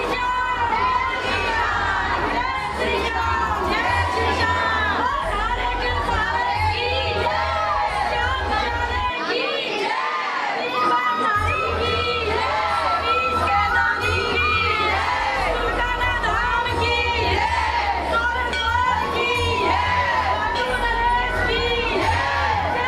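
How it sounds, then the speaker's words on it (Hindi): A large crowd of devotees fills the grounds of a Khatu Shyam temple, a loud, continuous roar of shouting, cheering and chatter with many overlapping voices and a brief lull midway. "अब देखिए कितनी भारी संख्या में लोग यहाँ पर पहुँचे हुए हैं।"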